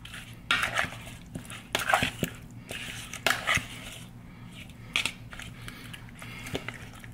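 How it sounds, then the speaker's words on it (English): A fork mixes chicken wings with seasoning in a bowl, making irregular scraping clinks and light taps that come in small clustered bursts, close and fairly quiet, with no voices. "I'm gonna go ahead and mix the wings and all the ingredients together with a fork"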